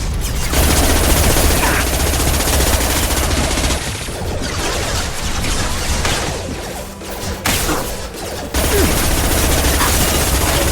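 Sustained gunfire rages in a Mass Effect 2 battle, dense overlapping automatic bursts and crackling shots at high volume with brief lulls and sharp restarts, no voices standing out over the din.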